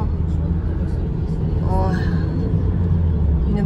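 Mercedes car with leather seats and air conditioning driving through Antalya, Turkey, heard from inside as a steady low engine and road rumble, with a brief rising whine midway.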